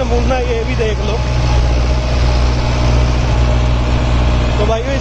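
A Mahindra Yuvo 575 4WD tractor engine runs with a steady, loud, low rumble and throb while working a tough field, and voices are faintly heard over it.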